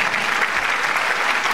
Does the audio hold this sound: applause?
yes